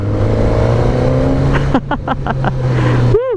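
Suzuki GSX-S1000 liter-class naked sport motorcycle engine while riding, a close, loud steady hum with wind rush, then rising revs in quick throttle blips and a final swell as the engine climbs.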